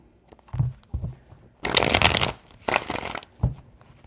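Tarot cards shuffled three times in quick bursts, riffling and sliding close by with short soft taps between, no one speaking.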